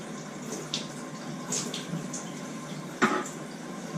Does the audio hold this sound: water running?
yes